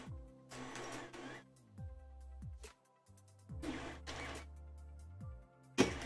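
A Creality Ender 3 3D printer with its stock board runs nearby, its stepper motors whining in pitched tones that rise and fall, broken up by bursts of buzzing movement and a sharp clunk near the end.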